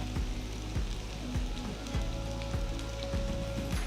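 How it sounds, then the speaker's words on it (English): Arbi fry with pounded garlic frying on a low flame makes a steady, soft crackling sizzle with faint irregular pops, continuous and close throughout. "After adding the garlic, fry for another 5 minutes on low flame."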